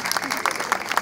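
A university audience gives a brief burst of applause for the professors, a quick patter of claps lasting about a second.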